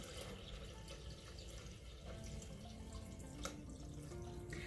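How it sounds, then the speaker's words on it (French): Water pouring steadily into a Thermomix bowl to cook rice, a continuous close splashing and trickling stream with no talk. "je vais mettre 750 g d'eau"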